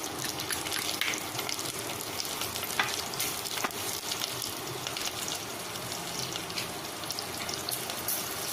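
Chana dal and urad dal fry in oil in a pan with crushed ginger, giving a dense, continuous hiss and crackle with scattered sharper pops, steady and close throughout.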